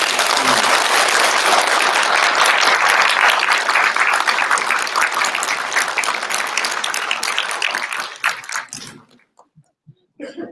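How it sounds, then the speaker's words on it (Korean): Audience applause at a legislative election candidates' policy debate in Paju, loud and sustained for about eight seconds, then thinning out to scattered claps and quiet. "후보님들 좀 격려 박수 한번 부탁드릴게요."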